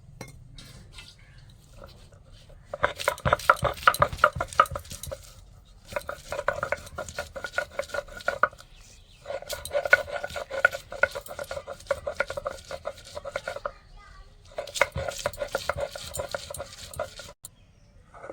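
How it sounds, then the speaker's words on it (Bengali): Onions being ground into a paste for crispy chana dal pakoras, heard as bursts of rough scraping and rhythmic stone-on-stone grinding, loud and near, separated by brief pauses. "পেঁয়াজগুলো বেটে নেবো"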